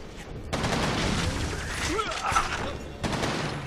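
Gunfire from the video game Resistance 2, a steady clatter of rapid shots running through most of the clip with a busy mix of game effects behind it.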